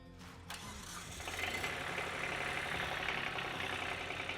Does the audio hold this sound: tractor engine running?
yes